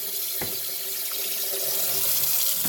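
Cold tap water runs steadily over a raw lobster tail in a kitchen sink as it is rinsed clean: a continuous close splashing stream with no talking.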